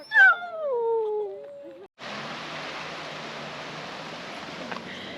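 A husky lets out a rising yelp that slides into a drawn-out, wavering howl and whine, followed by a steady wash of broadband noise.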